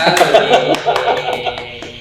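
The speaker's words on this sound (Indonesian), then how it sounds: "Tepuk tangan." Audience applause for two clowns at a local show, lively clapping with some chuckles and voices mixed in, fairly close and loud throughout.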